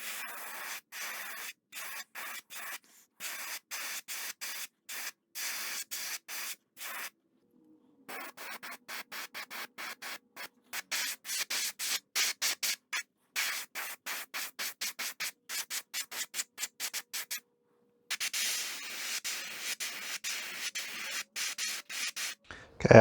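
Airbrush or spray gun applying moss green detail paint along the back of a 12-inch glide bait lure, heard as short repeated hissing bursts with brief gaps, steady and close, no talking.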